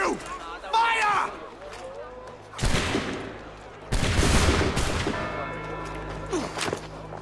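Musket volley from the Assassin's Creed 3 video game, heard as loud cracking bursts of gunfire fired on command, in two or three separate blasts amid shouted dialogue and scene effects.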